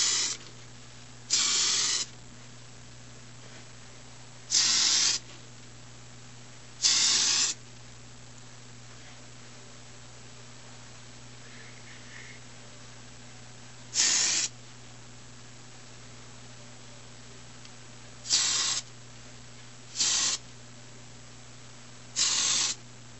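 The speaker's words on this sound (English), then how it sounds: "Once I've sprayed the entire piece down" Short bursts of aerosol spray primer hitting a resin kit piece, eight separate hissing sprays of about a second each, spaced irregularly over a steady low electrical hum.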